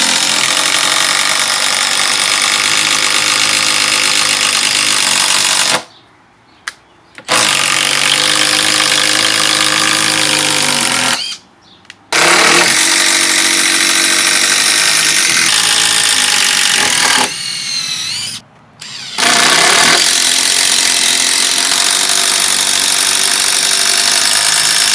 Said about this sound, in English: today I'm going to use it with this speed bore bit, and we're going to drill some holes with it